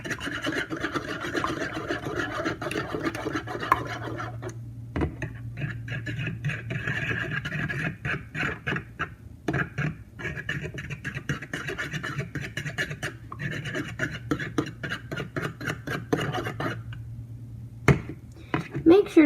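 Eggs being stirred in a bowl for scrambled eggs, a continuous close rasping, scraping rhythm of quick strokes carrying on for many seconds, with a faint low hum and occasional brief breaks.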